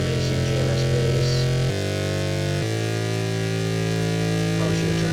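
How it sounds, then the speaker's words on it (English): Thick synth bass from a basic GMS patch layered in a dense electronic mix, holding long sustained notes that shift pitch twice and stay loud and continuous throughout. "A basic GMS bass."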